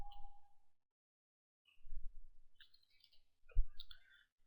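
Computer mouse clicking a login button, several sharp, faint clicks spread out over quiet room silence.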